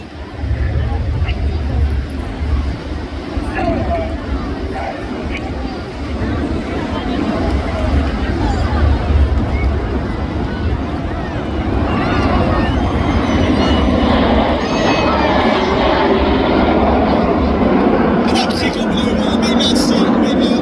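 Red Arrows display jets pass overhead at the Blackpool Airshow, a sustained loud engine roar building and swelling over a crowd and commentator talking throughout.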